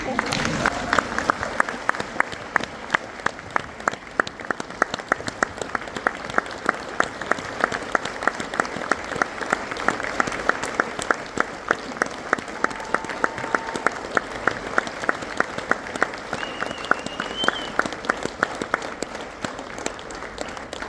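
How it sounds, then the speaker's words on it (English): Sustained audience applause at an event celebrating strong women: a dense, steady wash of clapping from a crowd that runs on for about twenty seconds, with a faint voice briefly audible beneath it. "Another round of applause"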